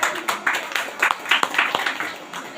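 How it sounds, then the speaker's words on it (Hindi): A church congregation at a Sunday prayer meeting applauds loudly, many hands clapping in a brisk, uneven rhythm that continues steadily throughout. "इसलिए आप लोग तेज ताली के साथ परमेश्वर को धन्यवाद दीजिए।"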